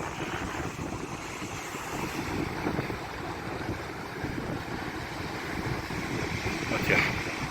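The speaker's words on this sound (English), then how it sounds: "impressive waves" Ocean surf breaking against the rocky cliffs of El Golfo on Lanzarote, a steady broadband roar with wind buffeting the microphone throughout and a slightly louder wave surge near the end.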